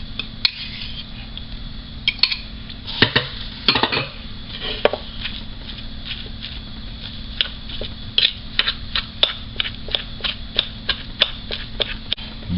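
A salmon cake mixture with yam stirred in a bowl, giving irregular clinks and scrapes of utensil against the bowl, close and fairly quiet, with no voices.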